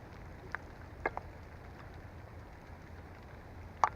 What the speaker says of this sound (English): instead what I'm getting is hail